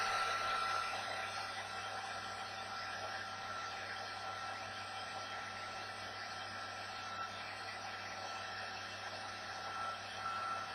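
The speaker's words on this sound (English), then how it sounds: "now we're going to go back to the hairdryer again and try to get that to lay down pretty decent" A hair dryer on its warm setting blows steadily up close while heating a decal on a compound-curved surface, a constant even whoosh with no change in pitch and no talking.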